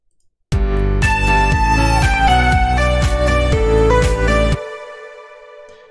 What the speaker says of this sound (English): Let's just try to use Realm on the lead sound.